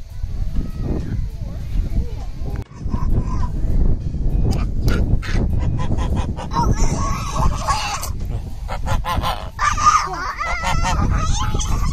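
Loud honking and quacking from ducks or geese at an open farm in Kilcoole, Ireland, repeated near and continuous, mixed with people talking.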